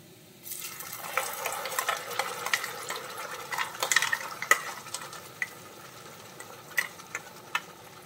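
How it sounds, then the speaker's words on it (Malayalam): A ground spice paste for Kerala-style crab curry is stirred and sautéed in a pan, giving soft continuous scraping and faint sizzling with scattered sharp spoon clicks, close and moderately quiet. "ഇനി ഈ അരപ്പ് നന്നായിട്ട് നമുക്കൊന്ന് വഴറ്റിയെടുക്കാം"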